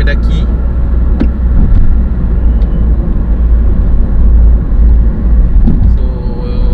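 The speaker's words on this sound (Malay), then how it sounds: "kereta FJ ni mula mendaki" An FJ car climbing uphill on the Rawang Bypass gives a steady, heavy engine rumble that stays loud and constant throughout, with a faint passing whine near the end.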